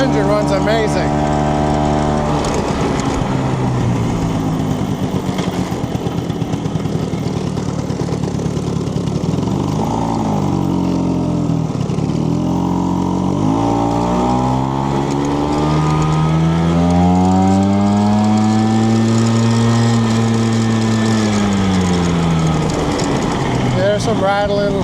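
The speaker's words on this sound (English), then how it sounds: "And that engine runs amazing." A 1968 Vespa 150 Sprint scooter engine runs steadily close by, its pitch rising and falling as it revs, with a continuous buzzing drone.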